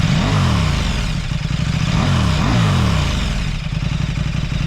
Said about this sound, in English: it still sounds like a mean bike because of that V-twin engine. It's got a rumble to it.